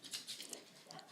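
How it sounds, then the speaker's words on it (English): A pet dog barks somewhere away from a quiet indoor room, a few faint, short barks scattered across a brief moment. "I don't know if you can hear my dog barking."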